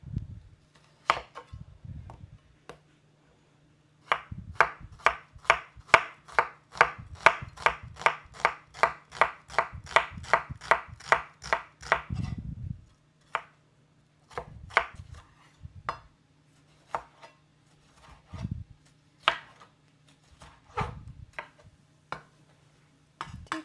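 Two tomatoes being chopped on a cutting board in a home kitchen, a quick run of steady knife taps followed by sparser, irregular cuts and pauses, close and fairly loud with no talking.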